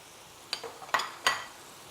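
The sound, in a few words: stirring diced celery and bacon in a pot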